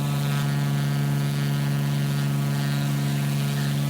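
Steady droning hum of a Mooney light aircraft engine in Microsoft Flight Simulator, cruising over southern Alaska, with strong even harmonics and no variation, loud and continuous with no voices.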